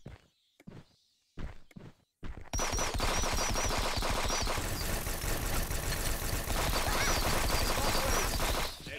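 Rapid sustained gunfire from a multiplayer shooter match in Friends vs Friends, loud and continuous after a few brief sharp shots and pauses, with footsteps mixed in.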